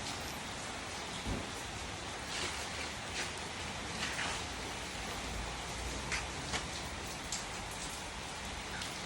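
Heavy rain pours steadily at Wang Thong, a dense, even hiss with louder patter bursts and faint distant thunder rumbling low underneath, no voices.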